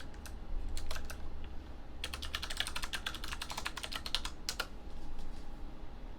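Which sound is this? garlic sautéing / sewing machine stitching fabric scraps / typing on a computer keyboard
typing on a computer keyboard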